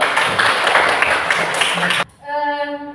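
Dense applause and clapping from a seated audience at a school talent presentation, loud and steady for about two seconds before cutting off into a sustained musical tone.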